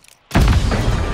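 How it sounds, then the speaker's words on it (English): Frag grenade explosion in Modern Warfare: a brief near-silent moment, then a sudden loud, deep boom that rolls on with heavy rumbling debris to the end. "Grenade out!"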